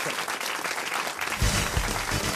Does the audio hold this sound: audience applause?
yes